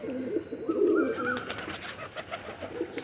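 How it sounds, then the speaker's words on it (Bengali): Pigeons on a rooftop coo in soft, rounded, repeated calls, fairly close and steady throughout, with no voices over them. "আজকে আমি আমার ছাদের পায়রাগুলোকে দেখাবো"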